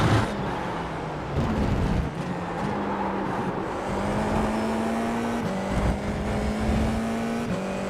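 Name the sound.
race car lapping Circuito de Jerez in iRacing video game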